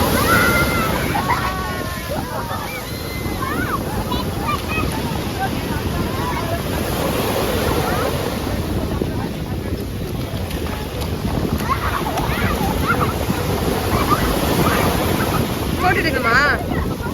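Ocean waves break and wash onto a beach in a continuous, broad roar, mixed with wind buffeting the microphone and faint voices in the background.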